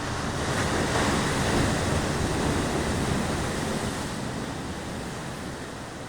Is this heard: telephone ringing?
no